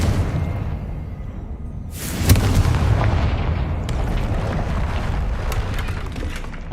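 A Confringo spell goes off in Hogwarts Legacy, a sudden booming blast that rolls into a long, loud rumble of falling debris and crackling fire, with no voices over it.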